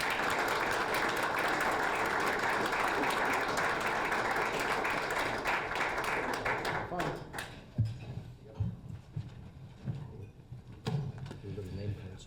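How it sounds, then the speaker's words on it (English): Audience applause at a Greater Moncton business event, dense and steady for about seven seconds before thinning into scattered claps and room noise. "please join me in giving a warm round of applause for our guests"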